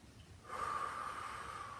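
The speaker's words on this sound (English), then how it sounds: "Let's take 2 more breaths here" Slow, deep breathing while holding a yoga split stretch, a quiet, soft breath beginning halfway through and continuing steadily with a faint airy hiss, close and calm.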